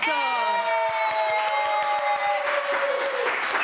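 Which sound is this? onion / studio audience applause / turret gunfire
studio audience applause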